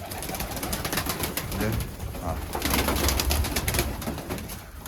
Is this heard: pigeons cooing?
yes